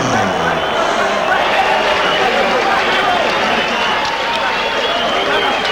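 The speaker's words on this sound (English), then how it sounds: "You heard the boos." A crowd at ringside in the Las Vegas Hilton boos after a heavyweight title fight, a loud, sustained roar of many voices with continuous chatter mixed in.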